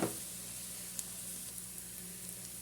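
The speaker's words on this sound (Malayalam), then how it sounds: "പൊടികളുടെയൊക്കെ പച്ചമണം മറന്നുവരെ വയറ്റി കൊടുക്കാം" Coriander, Kashmiri chili and masala powders frying in hot oil, giving a soft continuous sizzle with a few faint stirring ticks, quiet and close, no talk.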